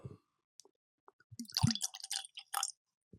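Whiskey pours into a glass in quiet, uneven glugs and trickling splashes, close up, with a few soft drips and clinks before the liquid flows more steadily, no voices.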